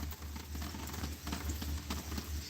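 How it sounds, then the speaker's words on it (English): Steady rain falling outside a building under construction, a continuous soft patter with scattered drips, faint and even throughout with no talking. "It's raining. It's been raining for a couple hours now."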